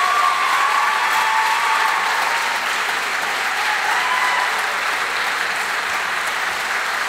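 A crowd at a sports awards event gives Arthur a round of applause, dense continuous clapping that holds steady and loud for the whole stretch.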